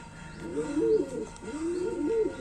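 Red-eyed Madras pigeons coo nearby, two clear rolling coos in quick succession over a quiet background, with no voices.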